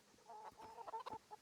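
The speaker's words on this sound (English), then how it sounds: "Feed the chickens." Chickens in the medieval video game Kingdom Come: Deliverance cluck in a quick, uneven burst of short, close calls lasting about a second and a half.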